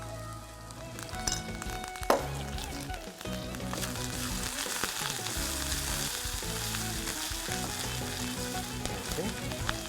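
Tempering of green chillies, ginger and curry leaves frying in hot oil for khichdi, giving a steady close sizzle with a sharp crackle early on and music underneath.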